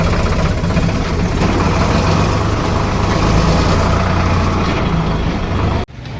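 A tractor engine runs at Patel Chowk with a loud, steady idling drone and low throbbing harmonics, holding constant before cutting off abruptly near the end and then resuming.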